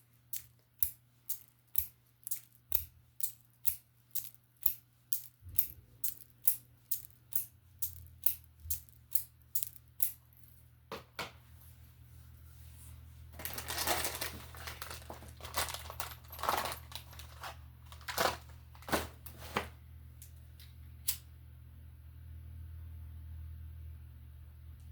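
Tarot cards are handled and shuffled: a long run of evenly spaced sharp card taps and flicks, followed by a denser burst of riffling and rustling, then scattered snaps over a low hum.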